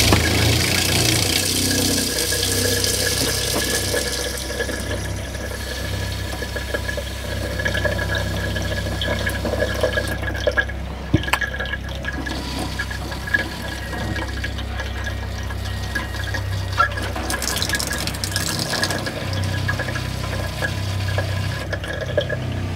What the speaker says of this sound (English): We let a little more volume go through the faucet